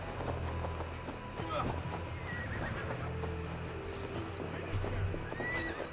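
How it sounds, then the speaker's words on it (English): A horse in Assassin's Creed Valhalla whinnies while its hooves clop steadily across ground, set against a constant bed of game ambience, with a voice talking faintly beneath. "My horse is leading the way"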